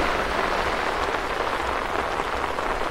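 Heavy rain pours steadily onto a flooded city street during a storm, a dense continuous hiss of drops on water and pavement, close and unbroken for the whole stretch with no voices.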